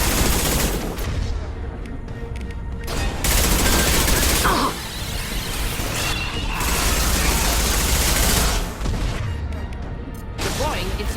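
Anti-ship batteries in Mass Effect 2 pound a collector vessel in a sustained, loud mechanical barrage of rapid firing and clanking that runs unbroken for several seconds, with brief surges and dips.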